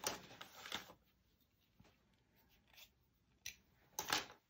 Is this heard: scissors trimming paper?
yes